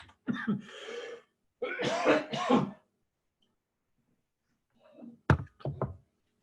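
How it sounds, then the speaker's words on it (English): A presenter coughs several times, a few sharp, close bursts near the end, during a spoken talk on waste incineration costs and CO2 emissions. Speech comes just before the coughs. "While I'm coughing"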